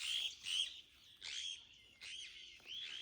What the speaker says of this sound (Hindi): चारों तरफ तोते ही तोते सुनाई दे रहे हैं।